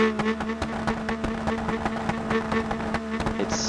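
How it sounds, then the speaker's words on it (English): The truck engine in BeamNG.drive career mode revs hard, with a loud raspy roar, rising and falling, broken by sharp crackling pops from the exhaust, and no voices over it. "Now the rev test."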